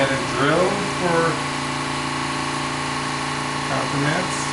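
A power drill whirs in short bursts while working on a base drawer cabinet, with steady motor hum between the louder surges and a voice talking over it.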